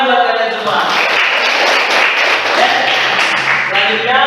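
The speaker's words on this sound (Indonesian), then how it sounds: "Tepuk tangan buat kalian semua." Students in a classroom clap together in sustained, dense applause, loud and close, with voices mixed in underneath.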